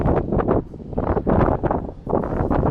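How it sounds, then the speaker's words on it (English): Strong gusty wind outdoors in Detroit buffets the microphone in heavy, roaring bursts, rising and falling throughout with no voices. "It's quite windy out here."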